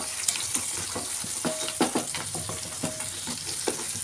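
Onions and peas sauté in a hot pan with a bright, continuous sizzle, broken by repeated scraping stirs of a spoon. No one speaks.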